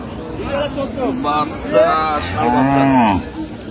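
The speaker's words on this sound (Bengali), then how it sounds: "ষাঁড় বাচ্চা।" A young bull calf at the Ambari cattle market in Dinajpur gives several loud, drawn-out moos close by, with market noise in the background.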